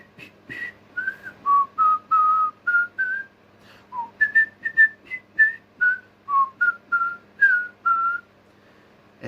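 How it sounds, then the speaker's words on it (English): A person whistles a simple, gentle folk-song melody alone, in short clear phrases with brief pauses between notes, close and unaccompanied. "Atrus made his way idly up the slope, whistling to himself one of the songs Anna had taught him as a child, a Dani song"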